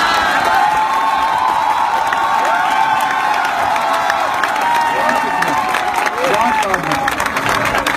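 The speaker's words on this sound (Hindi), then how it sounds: "फजा में बस ये तालियों का शोर थोड़ा और बुलंद करे" A large audience at a political gathering applauding and cheering. It is a loud, sustained wash of clapping with whoops and shouts.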